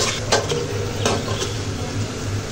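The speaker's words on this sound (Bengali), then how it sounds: "একটু পর এইভাবে নেড়ে ছেড়ে দিতে হবে, যাতে কড়াইয়ের তলায় যেন লেগে না যায়" Fish curry with beans, potatoes and peas being stirred in a wok, giving a few scraping spoon strokes against the metal over a soft steady sizzle.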